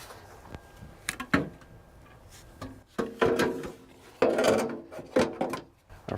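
A plastic cowl panel slides into place on a 2005-2018 Toyota Avalon, with quiet, close scraping and rubbing broken by several sharp plastic knocks and clicks.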